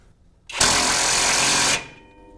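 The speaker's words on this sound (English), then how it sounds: "we'll go ahead and tighten this nut up here" A nut being tightened on the twin I-beam front suspension of a 2WD Ford Excursion Super Duty: one loud, continuous power-tool burst of about a second, starting and stopping abruptly.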